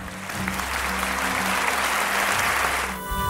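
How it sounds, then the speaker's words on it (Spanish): A crowd applauding first-year students at a school ceremony, a steady wash of many hands clapping at full volume, with a low hum underneath and a brief dip near the end. "para los que pido un aplauso"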